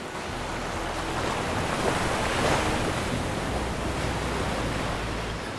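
Surf washes continuously against a rocky Konkan shoreline, a loud, dense roar of breaking waves that swells and recedes slightly, with wind buffeting the microphone and no voices.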